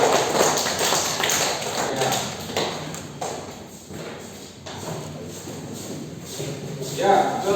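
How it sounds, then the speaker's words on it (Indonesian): A classroom audience in a teacher-training session claps for a group after its presentation. The applause is a dense, uneven patter of hand claps that runs throughout, moderately loud and fairly close. "Berikan aplaus kepada kawan-kawan."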